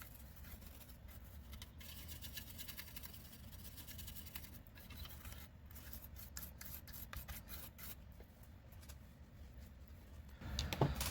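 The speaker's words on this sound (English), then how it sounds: "Now we gave that a little bit of a scrub down" A toothbrush scrubbing an NES circuit board with isopropyl alcohol, a steady close, faint bristly rubbing with quick back-and-forth strokes, slightly louder at the end.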